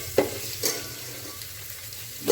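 Onions and curry leaves fry in a pan beneath a steady sizzle, broken by a few short scraping stirs of a spoon against the pan.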